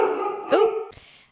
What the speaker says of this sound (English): something made Theo bark and it scared me